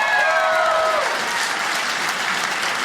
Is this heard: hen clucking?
no